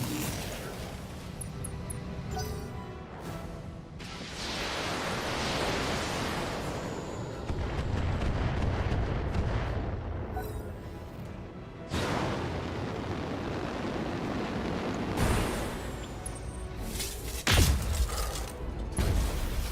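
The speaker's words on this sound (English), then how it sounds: "Take a hit from a particle cannon." In the mech combat game BattleTech, a particle cannon hit lands with a loud rumbling blast, surrounded by creaking machinery and repeated heavy impacts and surges over several seconds.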